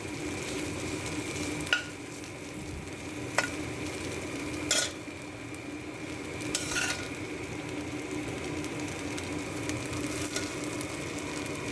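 Flattened rice for chire pulao fries gently in a pan under a soft, steady sizzle, while a spatula scrapes and taps every couple of seconds. No one speaks.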